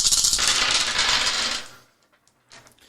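Dice clatter and rattle as they are rolled in a box during a board game, a brisk burst of rattling that stops abruptly, followed by a few faint ticks as they settle.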